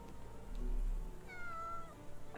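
A cat meows in the video game Sherlock Holmes The Awakened, one drawn-out, rising and falling mew over a quiet background hum, with a fainter second call at the end.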